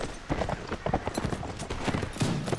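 Horse hooves clatter in the Mount & Blade Warband video game, a rapid busy clip-clop under battle noise with bursts that could be gunfire, continuous and fairly loud across the short stretch.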